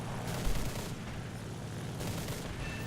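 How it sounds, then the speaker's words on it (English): Ki-43 Otsu fighter's guns firing at a Spitfire in War Thunder, a dense continuous rattle of gunfire with heavier bursts near the start and end, steady and fairly close over engine drone. "Put a couple of shots in there just to make sure, as my teammates were also still firing at him"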